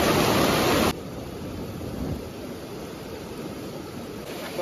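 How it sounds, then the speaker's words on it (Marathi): A flooded river in heavy monsoon rain rushes past, a broad continuous roar of fast water, loud and steady with no voices. "पूर जोरात आलाय नदीला, बारण्या वाहून पण जातील एवढा नदीला पाणी आलाय."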